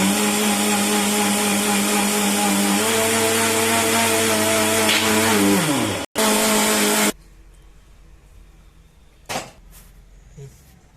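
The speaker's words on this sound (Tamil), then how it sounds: "சேர்த்து மறுபடியும் இதை அடிச்சு எடுத்துக்கலாம்" A blender whirs loudly and steadily while mixing pineapple juice with milk. Its motor pitch sags and drops away near the six-second mark, catches briefly, then cuts off, leaving quiet room noise with a couple of faint knocks.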